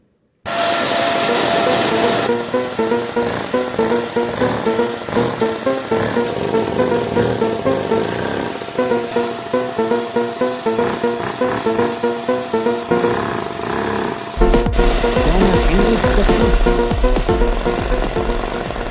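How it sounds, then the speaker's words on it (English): A custom-built LEGO piston engine with a super-glued piston runs for the first time, a loud, continuous whirring drone with rapid rhythmic pulsing, shifting in pitch as the throttle changes partway through. "First run of the super glued piston."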